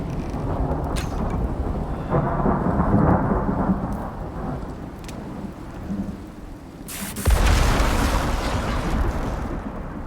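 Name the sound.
thunderstorm in the video game Icarus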